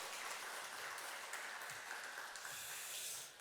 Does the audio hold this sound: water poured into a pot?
no